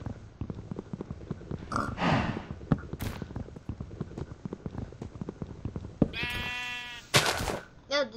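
Sheep bleating in the Minecraft video game, with a few short wavering bleats near the end over a steady ticking, busy game background and occasional other game noises.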